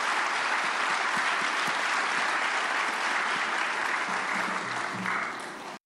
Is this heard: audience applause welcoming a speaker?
yes